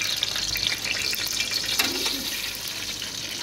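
Sugar tipped into a pan of browned cardamom frying for sweet zarda rice, a soft steady hiss and sizzle with a faint brief crackle, low and even throughout.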